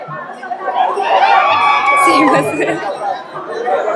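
Dense crowd of pilgrims at Pandharpur during the Ashadhi Wari, a steady close murmur of many overlapping voices with occasional louder calls rising above the chatter throughout.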